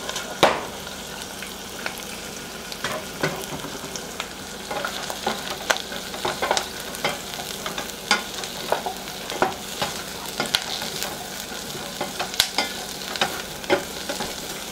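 Broccoli sautes in butter in a pan, a soft continuous sizzle broken by frequent scraping and clicking stirs, close and moderately quiet throughout.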